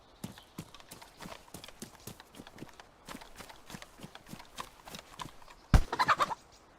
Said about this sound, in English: We should go and kill this chicken.